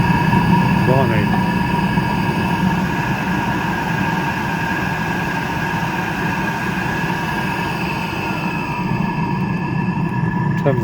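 A Chinese diesel heater runs with its fuel pump ticking, giving a steady droning hum and rumble with tonal whine, continuous throughout and close, tapering slightly near the end.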